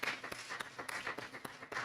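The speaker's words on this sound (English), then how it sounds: "I would like to ask for a round of applause for our speakers" Brief audience applause for speakers at a school referendum forum, a fairly sparse patter of clapping with a few louder individual claps standing out, heard from a distance in a hall.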